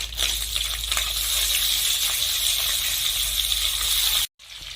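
Chopped tomatoes hit frying ginger in a hot pan and set off a loud, steady sizzle and hiss that runs on without a break, then cuts off sharply near the end.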